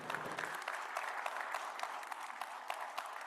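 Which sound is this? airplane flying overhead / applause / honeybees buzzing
applause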